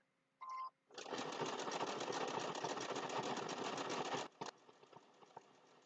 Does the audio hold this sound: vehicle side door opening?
no